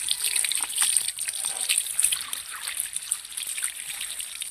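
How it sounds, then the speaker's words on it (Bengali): Water trickles and splashes steadily over the leaves of an indoor money plant, rinsing off built-up dust, a close, continuous hiss with light spattering. "মানি প্ল্যান্ট গাছটাকে ধুয়ে একটু পরিষ্কার করবো"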